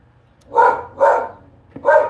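A small dog barks at the door indoors, three sharp, close yaps in quick succession, the last coming after a brief pause.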